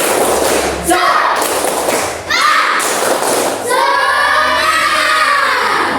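Schoolchildren perform a rhythmic spirit clap in class, heavy thumping claps in bursts with the class chanting and cheering loudly over them.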